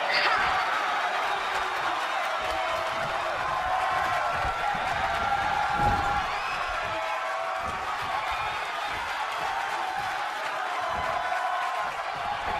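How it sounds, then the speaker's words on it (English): A wrestling arena crowd in WWE 2K20, the video game, roars in a steady, broad wash of cheering. It holds fairly even throughout, with occasional louder swells. "the crowd is going nuts out here"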